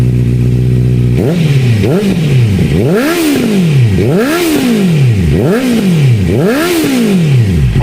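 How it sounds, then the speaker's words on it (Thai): A 2019 Honda CB650R motorcycle with an aftermarket exhaust idles briefly, then revs repeatedly in sharp rising and falling bursts, loud and close, about five throttle blips in a row. "มาฟังในส่วนของเสียงท่อกันบ้างดีกว่าครับผม"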